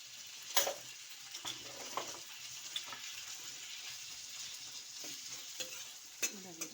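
Masala and tomatoes fry quietly in oil, a soft continuous sizzle broken by a few spoon scrapes and clicks against the pan as they are stirred.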